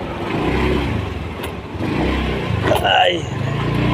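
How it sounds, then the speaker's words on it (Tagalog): A motorcycle engine in a dark subdivision at night idles and revs with a steady mid-range drone, rising briefly near the end while people talk over it. "Mag-iingay yung motor."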